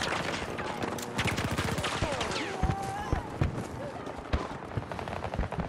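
Gunfire in the video game Battlefield 2042, repeated sharp shots and bursts crackling throughout with whizzing effects, loud and busy, with voices in the mix.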